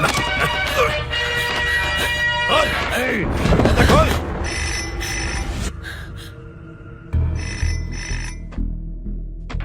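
A telephone rings in repeated bright bursts, overlapping with agitated Hindi voices and dramatic background sound in a comedy show scene.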